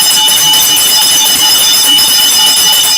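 A bell rings loud and steady as a studio sound effect, with a bright sustained metallic ringing that holds without pause.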